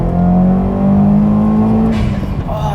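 A 2015 Subaru WRX fitted with a Process West top-mount intercooler accelerates hard, its engine droning loud and steady up through the revs, close and without any talking over it.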